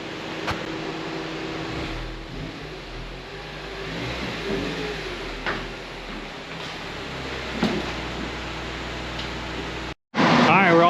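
Engine of a Honda with VTEC running on a chassis dyno during setup, a steady mid-pitched drone with low rumble and a few brief bumps, then a short cut and a louder burst at the end.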